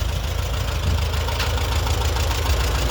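Vintage tractor engine running steadily just after a hand-crank start, a loud, continuous low chugging idle with a slight knock, close by and alone on a sunny outing.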